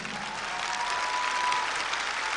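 Audience at a church Pentecost conference in Germany applauding steadily, a dense, even wash of clapping hands that holds at a constant level throughout without pause.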